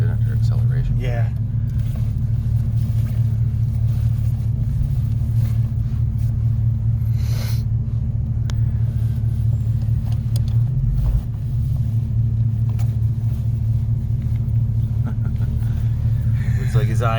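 A 1940 Ford Deluxe Coupe with a 327 engine and Turbo 400 transmission accelerating, a deep, steady low rumble close by throughout, with people talking over it.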